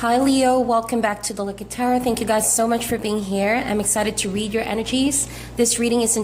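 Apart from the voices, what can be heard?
None of the usual background noises is heard.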